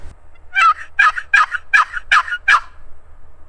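Six rhythmic yelps from a custom-made cedar and purple heart turkey box call, loud and close, with evenly spaced strokes and no talking.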